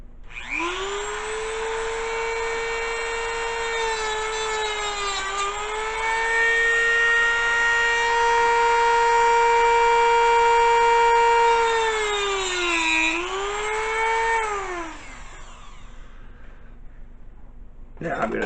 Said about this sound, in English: I'm going to Dremel tool them once again.